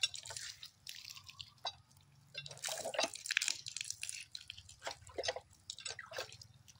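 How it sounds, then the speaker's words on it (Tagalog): Water from a hand pump in Infanta, Quezon splashes and drips irregularly as feet are washed; the sound is faint and close, with no voices. "Pamposo, pagpuposo tayo. Maghugas tayo ng paa."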